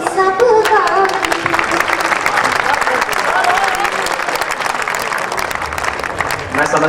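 Enthusiastic audience applause at a Hindi kavi sammelan poetry recital in Udaipur, a loud sustained wash of many hands clapping throughout, with a voice speaking over it at the start.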